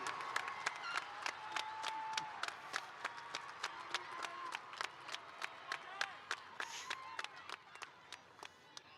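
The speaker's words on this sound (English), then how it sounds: "Students and parents, please give our teachers a round of applause" Graduates' families and students at a 2022 technical school completion ceremony applaud their teachers in a large venue: a fairly distant spread of individual claps that gradually thins into scattered, separate hand claps.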